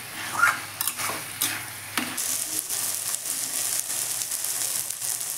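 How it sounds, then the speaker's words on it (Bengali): Spices and taro flowers sautéing in a pan for a shrimp curry, giving a steady close sizzle with scraping stirring strokes and occasional clinks of the spoon against the pan. "ভালো করে কষা করে যেন মশলাগুলো কচুর ফুলের মধ্যে ঢুকে।"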